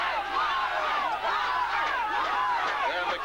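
A large country crowd roars and cheers at the 1993 West Coast rugby league grand final between Cobden and Wards Rakau in New Zealand, a continuous dense wall of distant shouting voices.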